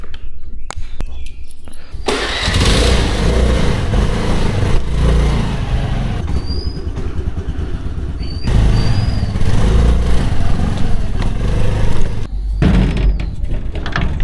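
A motorcycle engine runs close by, a loud continuous buzzing rumble that rises and dips with throttle and briefly drops away near the end.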